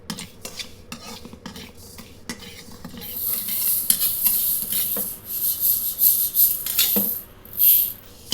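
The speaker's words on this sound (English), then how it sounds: "First, we'll just be roasting the rice." Rice dry-roasting in a pan, stirred with repeated scraping strokes and rubbing, and a hissy sizzle that rises partway through. The sound is close and fairly loud, with occasional sharper knocks of the utensil.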